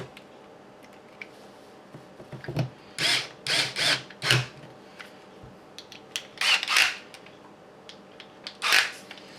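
A small power tool with magnetized bits, used on a Wraith kit build, whirs in several short bursts, some clustered and others spaced apart, with quiet handling clicks between them at close range.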